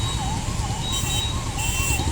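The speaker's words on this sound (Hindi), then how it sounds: "अभी देखिए एम्बुलेंस किस तरफ से गुजर रही है" An ambulance siren wails in a traffic jam on the Mango bridge, its rising and falling tone steady and fairly loud throughout over a constant rumble of idling traffic, with no talking.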